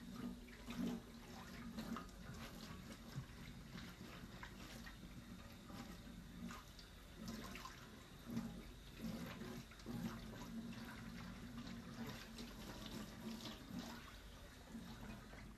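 Water runs steadily from a tap into a rock tumbler barrel being readied for tumbling river and lake coin finds, a continuous faint gush and splash with no talk.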